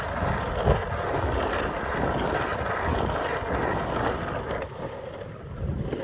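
Steady wind roar buffeting the microphone while riding a skateboard outdoors against a headwind, continuous and loud with a broad rushing rumble and faint wheel noise underneath.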